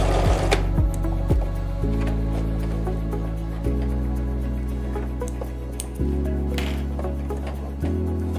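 A sewing machine locks off a seam while stitching a baju kurung, its motor running in steady droning stretches that shift pitch between bursts, with a few light clicks and taps at the start.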